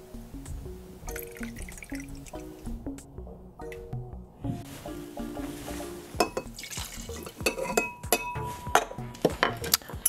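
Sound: ice clinking in a glass while making a mojito

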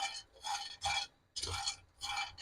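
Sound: stirring nuts in a pan

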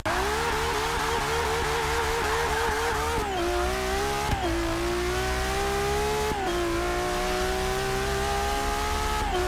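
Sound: Ferrari F12 car accelerating in video game Forza Motorsport 6

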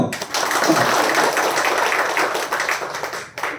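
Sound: audience applause

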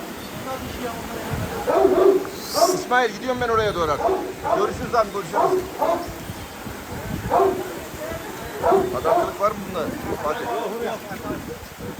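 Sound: Kangal dog barking

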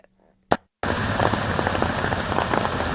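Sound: heavy rain

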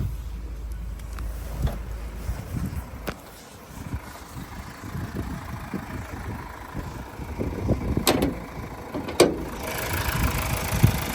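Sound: Mazda CX-5 2.2 diesel engine idling

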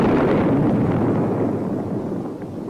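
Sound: Bullpup air-to-surface missile striking target, explosion

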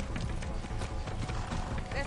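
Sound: horse hooves clip-clopping in video game Far Cry 6

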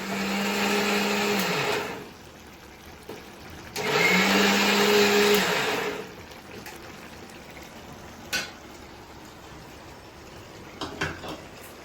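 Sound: mixer grinder blending cucumber chutney

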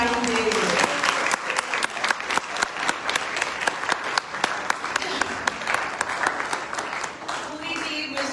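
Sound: audience applauding the organizing team

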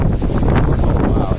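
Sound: strong typhoon wind

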